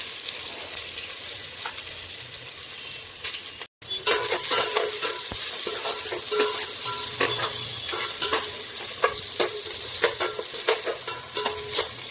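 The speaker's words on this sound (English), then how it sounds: "To the ghee, I will add the onions to fry till a nice golden brown" Onions and whole spices fry in hot ghee with a steady, dense sizzle, broken by clinks and scrapes of stirring throughout and one brief dropout near the start; no one speaks.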